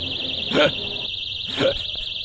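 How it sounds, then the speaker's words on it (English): A loud, steady electronic alarm tone wavers continuously at a high pitch, with two brief bursts of voices rising over it. "These alarms are crazy loud."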